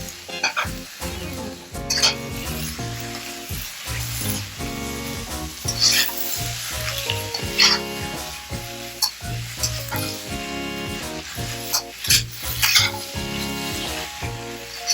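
Pad see ew with fresh homemade noodles, egg, beef and vegetables stir-fries in a hot pan, a loud continuous sizzle broken by rhythmic tossing and the clank of utensils against metal, close up.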